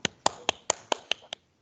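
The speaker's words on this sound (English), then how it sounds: "please give a round of applause to our panelists" About seven sharp hand claps from one nearby person, evenly spaced and fading toward the end, applauding webinar panelists, with no talking.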